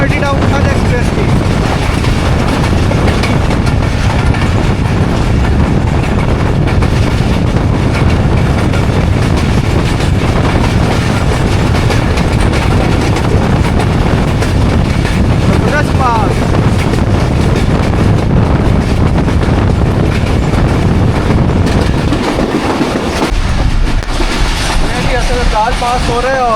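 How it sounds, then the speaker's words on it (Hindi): Passenger train, the 1UP Khyber Mail, running through a railway station between Rawalpindi and Attock, its loud steady rumble and rail noise filling the whole clip with wind buffeting the microphone, dropping away briefly near the end. "रेलवे स्टेशन से थ्रू पास हो रही है वन अप खैबर मेल।"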